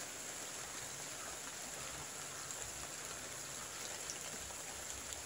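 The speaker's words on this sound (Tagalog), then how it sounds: "Ang lakas pa naman ng ulan, no?" Heavy rain falls steadily at night, a dense even hiss of downpour that fills the whole scene without pause, with no voices over it.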